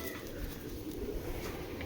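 Low, continuous cooing from pigeons being handled, with Tiger racer birds of Netherlands line in the mix, sitting under a steady wash of room noise without much variation.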